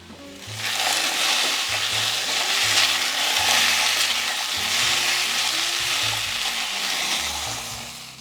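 Potatoes sauté in a pan with a dense, steady sizzle and frying crackle, broken by scraping and stirring strokes of a utensil, close and continuous with no talking.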